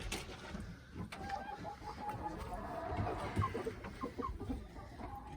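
Chickens clucking and murmuring softly inside a coop during cleaning, low continuous chatter from several birds amid a rustling, noisy background, no talk.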